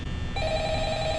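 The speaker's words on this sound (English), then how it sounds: "The phone rang again." A telephone ringing in a night security office, a steady electronic ring tone starting partway in and holding over a hissy room background, with no voices.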